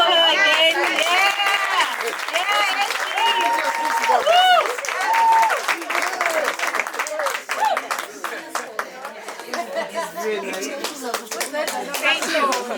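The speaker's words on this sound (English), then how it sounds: "Can we clap for her again?" Audience clapping at an athletics club's fifth anniversary award ceremony, steady applause mixed with cheering voices and talk throughout, loud and close.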